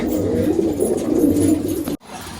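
Pigeons coo in a loft with a low, rolling, repeated cooing that comes close and loud, ending in a brief dip before a quieter tail of sound.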